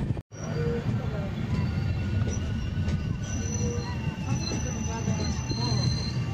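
A long-distance train from Renigunta Junction to Pune runs fast on its rails near Solapur. Steady, loud wheel rumble fills the scene, with repeated metallic squeals and faint clicks, and murmuring voices may sit under it.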